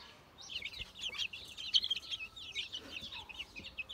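Young chicks and chickens let outside into a sand pit keep up a busy chorus of high peeping and chirps, many overlapping calls close by, with no speech.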